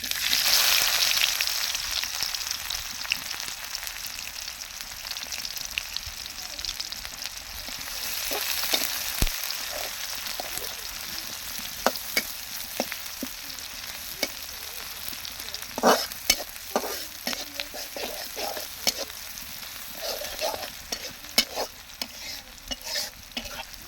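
Whole cumin seeds and chopped onion fry in a pan with a continuous close sizzle, punctuated by frequent scraping and clacking stir strokes, louder toward the end.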